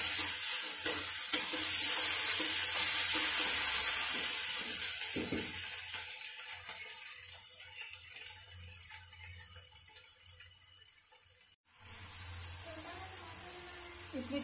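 Peanuts dry roasting in a pan at home, giving a soft steady sizzle with faint stirring scrapes and a few light clinks, moderately near, dropping out briefly near the end before resuming.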